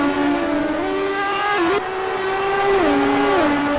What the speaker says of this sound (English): Just listen to those engines roar.